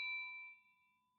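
A single clean notification bell ding rings out clearly and then fades away over about a second, with no talking.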